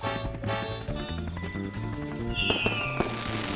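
Cartoon fireworks burst in quick succession under bright, tonal music, with a whistling rise near the end followed by more pops.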